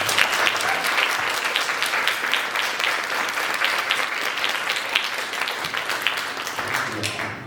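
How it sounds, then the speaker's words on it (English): An audience claps for a panel at an evening advocacy event in a winery venue, sustained and even applause throughout before tapering off at the very end. "Big round of applause for our panel."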